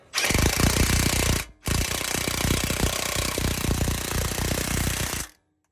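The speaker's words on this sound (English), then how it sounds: "All right, I'll use like an impact." An impact wrench tightens a bottom bracket bolt on a truck, two loud sustained rattling bursts split by a brief pause, close up and with no talking.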